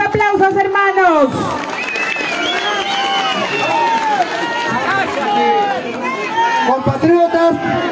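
A crowd at a political rally in Andahuaylas cheers and shouts, a dense, loud babble of voices with whistles and calls rising and falling throughout.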